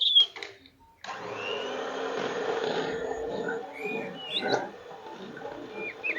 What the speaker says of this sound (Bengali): দেখুন এরপর আমি এই মেশিনটার সাহায্যে ব্লেন্ড করে নেবো।